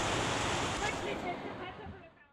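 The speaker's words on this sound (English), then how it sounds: "Quick, it's torrential!" Torrential rain hammers down on a sailboat as a dense, steady roar of broadband hiss that tapers off slightly toward the end, with no distinct voices over it.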